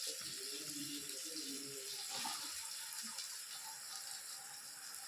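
A kitchen tap runs water into a cup while mutton curry is being made, a faint, steady hiss of flowing water with a few soft clinks near the start, with nobody talking.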